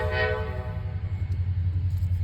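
A passing train sounds its horn in a loud blast at the start, which fades into a continuous low rumble of the moving cars.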